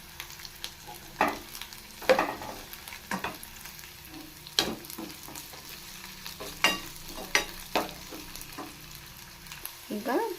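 Garlic and curry leaves fry in hot oil for a garlic tomato chutney, a continuous crackling sizzle broken by repeated scraping stir strokes of a spoon against the pan, close and fairly loud.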